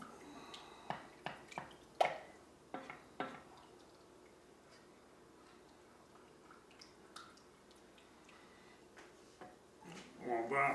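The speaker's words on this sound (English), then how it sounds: "Really stir that up." Spoon clicking and scraping in a pot while a roux is stirred, a series of sharp, quiet taps and wet squishes spaced irregularly, growing busier toward the end.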